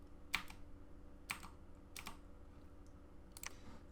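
Computer keyboard keys are pressed in a sparse, irregular pattern, about five distinct clicks including the spacebar, close and fairly quiet over a low steady hum, while a Dominions 4 strategy game is played.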